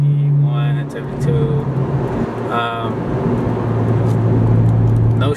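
Interior of a BMW F30 sedan fitted with wheel spacers cruising at about 70 mph, a steady engine hum and road roar throughout, with someone talking over the drone.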